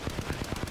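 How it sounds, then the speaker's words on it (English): Rapid, dense bursts of explosive gunfire-like blasts from an airstrike in the video game Apex Legends, a loud, close barrage repeating several times a second. "there's an airstrike"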